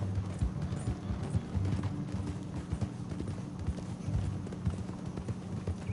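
Rapid hoofbeats of a galloping horse in Red Dead Redemption 2 thud steadily throughout, a dense, driving clatter at moderate loudness with no voices.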